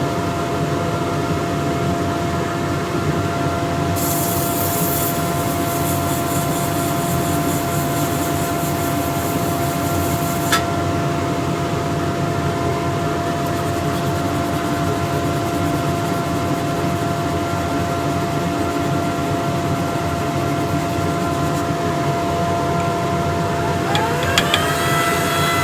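Sandpaper of 320 grit held against a spinning wooden box on a woodturning lathe, a continuous even rubbing hiss over the lathe's steady motor drone, with brief brighter scratchy bursts along the way.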